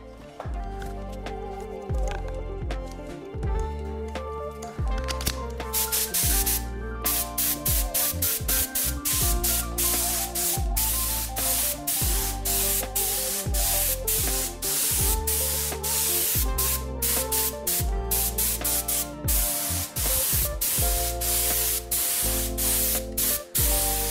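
Spray gun laying a candy chrome paint coat onto a carbon bicycle frame, a steady close hiss broken into rapid repeated bursts and short pauses, loud and continuous with no talking.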